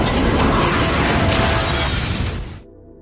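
A loud, sustained explosion from the film Risen, set as a family prepares for dinner and the shaking builds. A dense, roaring blast fills about two and a half seconds, then cuts off into a faint low rumble.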